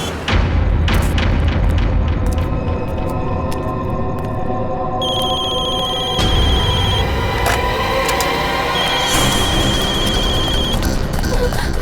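A telephone rings again and again, as if many calls are coming in, with a high electronic tone repeating over a loud, busy dramatic soundtrack that has booming hits.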